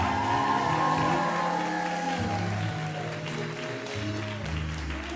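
Audience at a public lecture and award event applauding for the poets, heard as a sustained wash of clapping with some cheering and a continuous murmur underneath.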